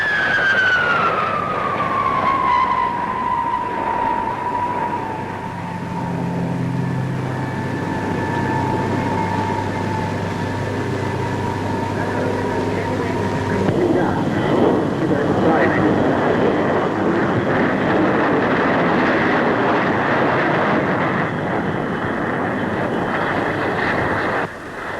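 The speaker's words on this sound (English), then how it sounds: "Here is the de Havilland 110." A de Havilland 110 delta-wing jet flies past at Farnborough, its high whine sliding down in pitch as it passes, then a loud roaring rush as it goes by, with a narrator talking over parts.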